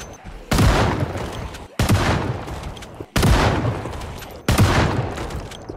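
A shotgun fires four times in a zombie survival video game, each blast sharp and loud with a long decaying tail, spaced roughly every one and a quarter seconds.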